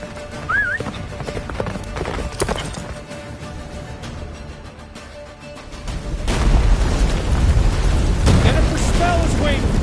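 Roach, the horse in The Witcher 3, gallops with rhythmic hoofbeats amid game effects and music, growing louder and denser in the second half.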